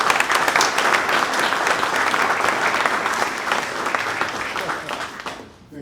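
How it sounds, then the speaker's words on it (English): An audience at an Altadena Historical Society evening presentation gives a full, sustained round of applause, many hands clapping densely and evenly before it tapers off near the end. "let's give them a nice round of applause"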